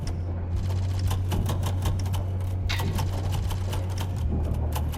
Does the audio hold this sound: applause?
no